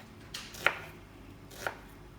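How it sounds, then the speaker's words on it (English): A knife slicing red onion on a board, with two distinct crisp chops about a second apart over a quiet background. "we're going to slice. You can use red onion or brown onion"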